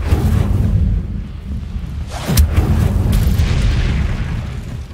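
Incendio fire spell cast in Hogwarts Legacy: a loud, sustained roaring burst of flame with a rumbling low boom, heard alone and steady for about five seconds.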